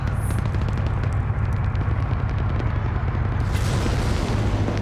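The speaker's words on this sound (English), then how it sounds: "that was a secondary explosion" Secondary explosion in a multiplayer video game fight, heard as a sustained loud rumbling boom with dense crackling debris, continuous throughout and shifting to a brighter roar near the end.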